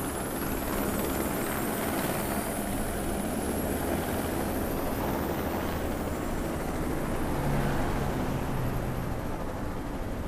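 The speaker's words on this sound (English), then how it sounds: "I do believe that is a helicopter." A helicopter in the video game Watch Dogs 2 gives a steady, broad rotor and engine roar that holds at an even level throughout, with no voices over it.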